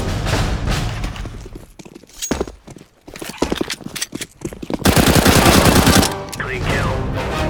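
A shooter video game produces bursts of rapid gunfire mixed with clattering hoof-like thumps and other game effects, loud and busy, with brief quieter gaps between volleys.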